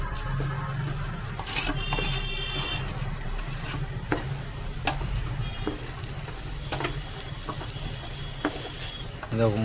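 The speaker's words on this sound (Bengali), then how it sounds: "এবার মশলার সাথে আমি চালটাকে ভালো করে মিক্সড করে দেবো।" Rice being stirred into spices in a pan for prawn biryani, with a steady gritty scraping and soft sizzle throughout, close and continuous with occasional clinks of the utensil.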